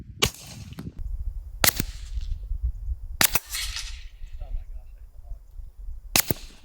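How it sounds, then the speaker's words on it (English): A suppressed .45 ACP pistol fires regular ammunition, giving sharp, snapping cracks spaced a second or more apart, each followed by a brief decaying tail against a faint outdoor background. "That's 3 rounds of some regular ammo."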